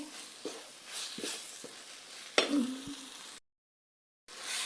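Bean seeds frying with spices in a pan, a soft sizzle broken by a few scraping stirs and one sharper clatter, then a brief silence before the sizzle returns.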